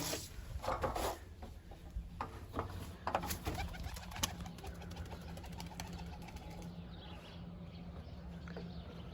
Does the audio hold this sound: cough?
no